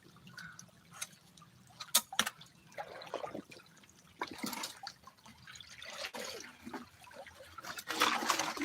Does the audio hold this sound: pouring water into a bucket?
yes